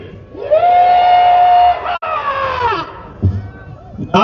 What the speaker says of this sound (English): we're gonna give a big yee-haw